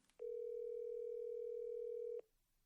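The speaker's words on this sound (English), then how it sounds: "the phone rings again." A telephone tone sounds as one steady, loud, unbroken two-second beep that starts and stops abruptly against a quiet room, with no talking.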